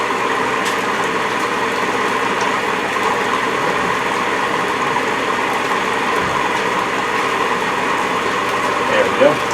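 Maple sap concentrator running steadily as a valve is closed and the pressure climbs, a continuous close mechanical hum and whir with faint rattling, while someone talks over it.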